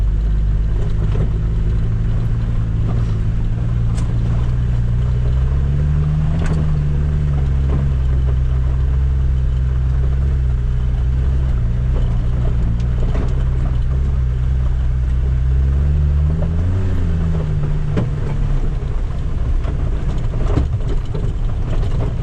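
A 2024 Polaris Ranger XD1500 work UTV cruises in its comfort setting with a loud, steady, low engine drone. The drone lifts slightly in pitch twice, with no talking over it.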